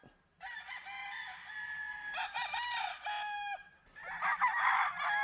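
A rooster at a gamefarm crows in several loud, close bursts, a long call followed by another strident crow, with faint background noise and no talk.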